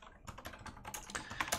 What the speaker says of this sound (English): Typing today has been a real struggle for some reason.